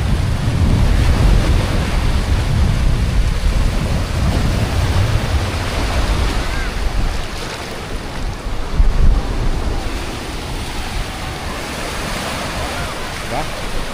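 Strong ocean waves break and wash continuously on White Beach in Boracay, a loud, full roar with heavy low rumble and gusting wind noise throughout, surging slightly around the middle.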